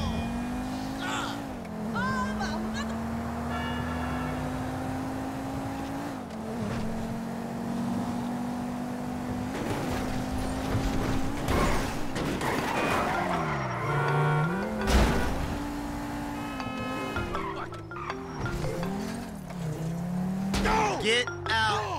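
A car driving in Grand Theft Auto V, its engine droning and revving through gear shifts with rising and falling pitch, tires squealing in places and sharp bumps along the way, while voices talk over it.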